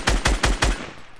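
Gunfire in a shooter video game: four rapid, loud, close shots in quick even succession, then a fading tail.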